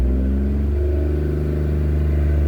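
A 2008 Pontiac G6 GT engine revs up once, a mid-pitched hum climbing steadily and holding, close and fairly loud with no talking.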